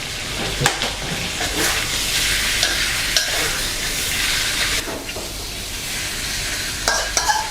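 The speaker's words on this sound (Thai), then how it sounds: "ผัดให้เข้ากันครับ" Catfish stir-fried in a pan with sugar, fish sauce and seasoning powder for a spicy Thai catfish dish with stink beans; a loud, steady sizzle runs throughout, broken by scraping and clacking stirs of the spatula, with no talking.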